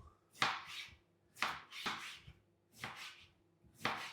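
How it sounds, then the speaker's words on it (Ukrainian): Four crisp knife chops dicing cabbage against a board, evenly spaced about a second apart, close and clear with no talking. "І тепер нарізаємо кубиком."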